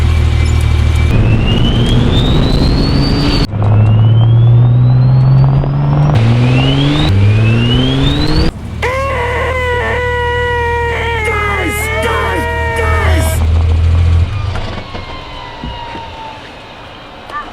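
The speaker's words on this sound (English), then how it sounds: "I like pretty much every sound out of the Turbo with the T51r mod, apart from the whistle" A loud Porsche 964 Turbo engine with a T51r mod revs and idles, with a high rising turbo whistle climbing as the revs build and a whooshing flutter when they drop.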